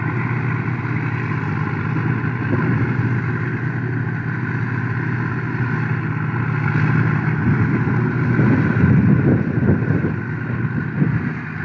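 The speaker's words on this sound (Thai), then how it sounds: "ลมแรงมากเลย" Strong wind blows outdoors, buffeting the microphone in loud, uneven gusts over a constant low mechanical drone, with no speech.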